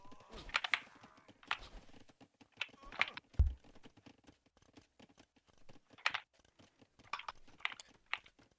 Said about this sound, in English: just an endless mass of keyboard sounds from from Team Lighty.